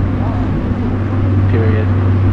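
A bus engine running, heard from the roof of a moving bus in the Himalayan foothills of Nepal: a steady, loud low drone with a constant hum and wind rush, no breaks.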